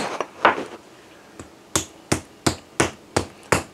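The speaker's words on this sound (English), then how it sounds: "What I'm going to do is flatten it all out" A mallet pounds chicken breast flat on a board. There are a few softer hits, then six sharp, evenly spaced thuds close up.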